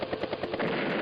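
Anti-air units open fire in the strategy game Advance Wars: Days of Ruin, a loud, rapid burst of machine-gun style rattling that pulses in quick succession and then holds as continuous fire.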